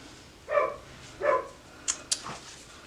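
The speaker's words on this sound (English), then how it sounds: "I hope you guys cannot pick up my dogs barking in the background." Dogs bark in the background in a home sewing room, two muffled barks followed by two quick sharp yips, all moderately distant with no voices.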